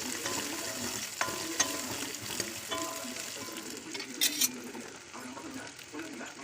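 Onions with black pepper, fennel, cumin and poppy seeds sizzle softly in oil in a pan, with occasional utensil taps and scrapes as they are stirred, fairly quiet and steady.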